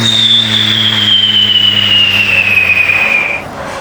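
A voice imitates an airplane landing: a thin high whistle slowly sliding down in pitch over a low steady roar, loud and continuous, ending in a sudden drop.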